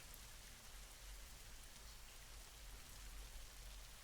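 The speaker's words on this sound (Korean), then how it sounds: "귀에 들려오는 소리라곤 묵직한 빗소리와 가득 찬 천둥 소리뿐이다." Heavy rain pours steadily at night in an audio drama. The downpour is dense and continuous, with a low rumble underneath and no voices.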